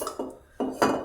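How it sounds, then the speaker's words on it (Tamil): A kadai pan set down on a home stove while cooking a vazhakkai fry, giving a few short metallic clanks and scrapes close by, with no talking. "ஒரு கடாயை வச்சு"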